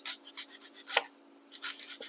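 A knife thinly slicing a red onion on a cutting board, giving a rapid, rhythmic run of crisp close cuts, a short pause, then a few more quick slices with no talking.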